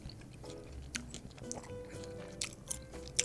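Someone chews soggy cereal with soft, wet crunching bites close to the microphone, faint and irregular over a low background.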